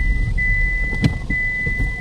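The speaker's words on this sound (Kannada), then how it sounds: "ಮಳೆ ಜೋರಾಯ್ತು ಛತ್ರಿ ಉಲ್ಟಾ ಐತೆ" Rain pattering steadily with gusty wind noise and a brief sharp knock midway, as an umbrella turns inside out; a thin steady whine runs underneath.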